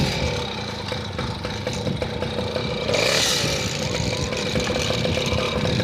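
A moped engine runs steadily on a dirt trail, a continuous mid-loud drone with rough broadband noise and a brief swell of higher-pitched roar near the middle.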